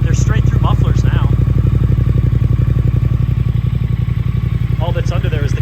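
2022 Triumph Speed Twin motorcycle engine with its stock exhaust, a loud, close, evenly pulsing idle with a steady low throb, while someone talks over it.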